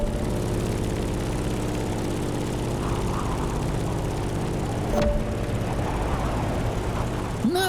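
Propeller plane in the open-world racing game The Crew Motorfest, its engine droning steadily and loudly with a pulsing low hum throughout, plus a brief click and a short rising chirp near the end.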